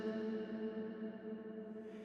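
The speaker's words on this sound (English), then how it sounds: "I increased the reverb on the last word of each line, so it just kind of rings out a little bit" A sung final word from the song lingers in a reverb tail, a sustained, fading vocal tone that rings out softly and slowly dies away, quiet and alone.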